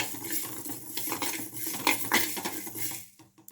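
Fenugreek and cumin seeds are dry-roasted in a metal pan, with a spoon stirring and scraping in close, continuous clinks and rattles, and no voices.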